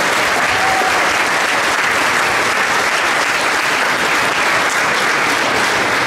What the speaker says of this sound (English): So let's give those people a round of applause too.